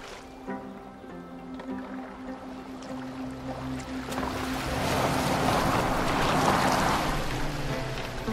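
A boat glides across water in Assassin's Creed Valhalla, a steady rush of hull wash and wind that swells louder in the second half, with a low droning hum underneath.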